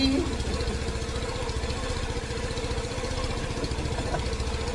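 A GY6 scooter engine runs steadily at idle with a rapid, even putter and a constant mechanical hum, close by.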